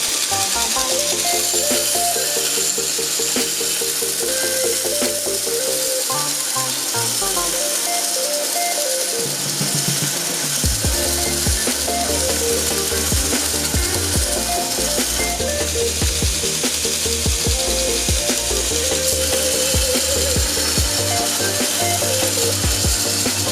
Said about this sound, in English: we're just going to go ahead and grind all this forge scale off